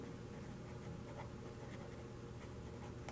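Pen writing by hand on paper while working out a logarithmic inequality, a steady close scratching with soft stroke-to-stroke variation running the whole time, alone without talk.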